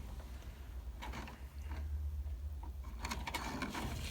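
A windshield wiper motor, freshly wired with a new 12-volt feed, runs in a 1967-72 Chevy truck, giving a quiet mechanical whir with soft intermittent ticks and clicks, close and without speech.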